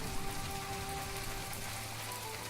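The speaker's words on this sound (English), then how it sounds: "I love listening to the rainy days on headphones because listening to that thunder is so nice" Rain pouring steadily in the video game My Time at Portia, a dense, even hiss of falling water with no distinct drops or thunder, heard alone and without talk.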